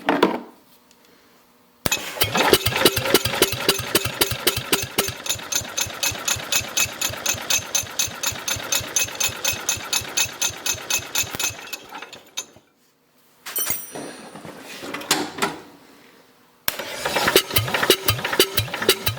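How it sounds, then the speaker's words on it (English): A Cub Cadet bush hog's engine is spun over with a jump pack: a loud, rapid rhythmic cranking chug for about ten seconds, then breaks of silence between shorter bursts of cranking. "I'm going to go ahead and spin the engine over with the jump pack."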